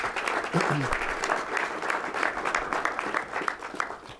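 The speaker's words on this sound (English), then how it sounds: "Please give her another round of applause" Crowd at a civic business unveiling at the DC Convention Center applauds warmly, a steady wash of many clapping hands that swells briefly and then tapers off.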